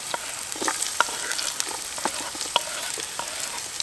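Onions sizzling and crackling in oil in a Trangia pan outdoors, a steady close frying hiss dotted with small pops and stirring scrapes.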